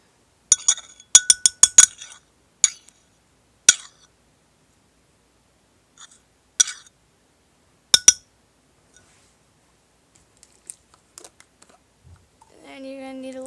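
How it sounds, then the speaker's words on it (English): A utensil clinks against a glass container while a homemade bronzer mixture is stirred, giving sharp irregular taps in quick bursts, then sparse knocks before a soft voice at the end. "you stir all of that together"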